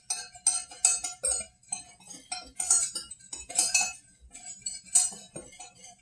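A metal whisk clinks rapidly against the sides of a bowl while mixing chicken marinade, making a steady, rhythmic run of close, bright taps with no talking.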